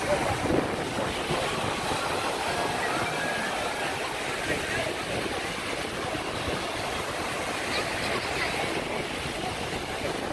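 Black Sea surf breaking along the beach at the resort of Jupiter, a steady wash of waves under strong wind buffeting the microphone, continuous and fairly loud for the whole stretch.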